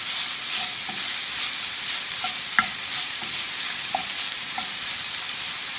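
Sausage is stirred in a hot frying pan, a steady sizzle with scattered light scraping and tapping of the utensil against the pan, the loudest tap coming midway.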